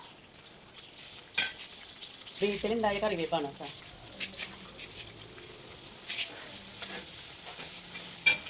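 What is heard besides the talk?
onion frying in hot oil for chicken biryani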